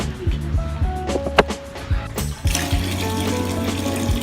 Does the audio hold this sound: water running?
yes